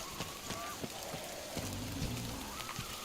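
Steady rain patters on a surface in the video game Metro Exodus, with scattered droplet taps and a faint electronic tone drifting through. No one speaks.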